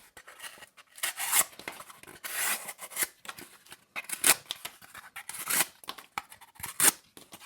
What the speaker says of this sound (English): I got a single wall piece of cardboard here cutting at a diagonal angle here for better performance.